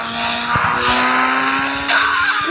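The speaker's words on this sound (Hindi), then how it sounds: "पता नहीं किसकी थार है, कितनी मॉडिफाई करा रखी है भाई" A modified Mahindra Thar races in a video game, engine drone steady and loud with tire squeal and skidding layered on top, all close and continuous with no talk.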